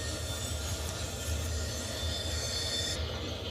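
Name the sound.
freight train locomotive rolling, train brake released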